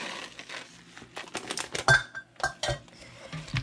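A spoon scrapes and clinks against a crockpot as cheese is stirred into a chicken, broccoli and rice casserole. The close clatter comes in irregular bursts, with a few sharp metallic knocks.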